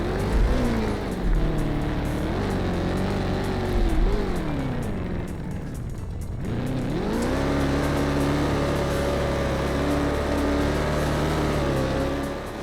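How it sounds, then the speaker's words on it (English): A V8 car engine in a Roblox driving game labors up a steep uphill road, its loud, continuous drone rising and falling in pitch as it strains, briefly dipping before climbing again. "The uphill road will start to get very steep, but the V8 engine will have a hard time climbing it."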